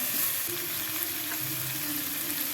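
Onions and ginger sizzling in a pan while cooking chicken, a steady broadband frying hiss that runs throughout with a faint low hum beneath, no voices.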